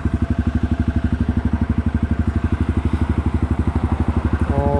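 A Yamaha TW200 motorcycle engine thumps along in a fast, even single-cylinder pulse while riding, loud and close throughout.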